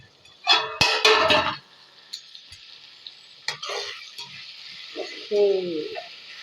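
A spoon stirs tomato curry in a pan: a few bursts of scraping and clatter, then quieter sizzling with a couple more stirring scrapes near the end.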